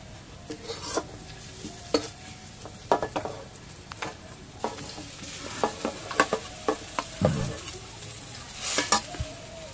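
Diced potatoes go into a pan of lightly fried chopped onion and green chilli, sizzling steadily while a utensil scrapes and stirs them in repeated sharp clatters, close and alone without talk.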